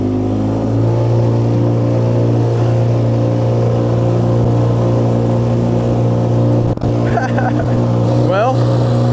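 A fake Yamaha outboard motor bought from Alibaba runs at full throttle while the boat sits stationary, giving a loud, steady, buzzing engine drone throughout, with a brief clatter near the end.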